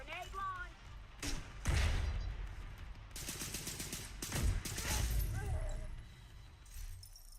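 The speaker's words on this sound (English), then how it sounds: "Grenade launch!" Video game weapon fire comes in several loud bursts of heavy thumping blasts and rattling shots, with impacts and debris between them and voices calling out over the action.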